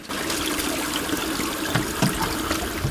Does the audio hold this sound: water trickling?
yes